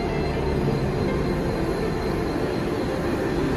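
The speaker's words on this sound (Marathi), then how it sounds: "चला, शेवटी आपली ट्रेन आलेली आहे।" Commuter train rolling into a station platform near Mumbai with a steady loud rumble and rail hiss, continuous throughout with no talk.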